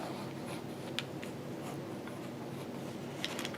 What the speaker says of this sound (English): instinct is telling me to use pencil right now and make some marks